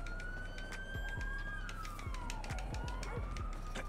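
Police siren in GTA 5 wails and sweeps up and down continuously, loud and close, over rumbling vehicle and game noise.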